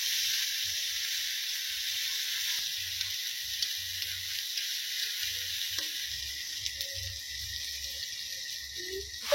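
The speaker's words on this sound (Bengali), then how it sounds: "টমেটো কুচিগুলো দিয়ে দেবো, আদা রসুন বাটাও একসাথে দিয়ে দিচ্ছি, অনেকক্ষণ মিক্স করে ভেজে নিই।" Chopped tomato and ginger-garlic paste fry in a pan with a steady, close sizzle and hiss that runs throughout, joined by faint low knocks from stirring; no one speaks.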